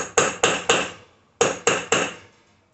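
Hammer strikes driving caster wheel bearings back into place, two bursts of three sharp metallic blows in quick succession, close and loud with short ringing decays and no talk.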